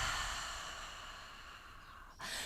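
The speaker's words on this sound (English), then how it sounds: "And then exhale." One slow, deep exhale during a breathing exercise, a soft airy sigh that fades gradually over a couple of seconds, close and quiet, followed by a brief breath at the end.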